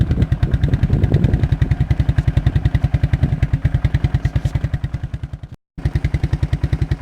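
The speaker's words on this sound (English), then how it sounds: "It sounds like it's idling high, so I can tell by the way it's running." ATV quad with a 300 engine idling high after a cold start in deep snow, a loud, close, steady rapid putter with an even pulsing rhythm and a momentary dropout near the end.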